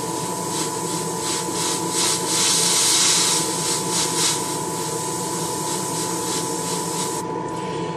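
A steady hiss of spray paint runs continuously for several seconds, swelling slightly in the middle before cutting off near the end.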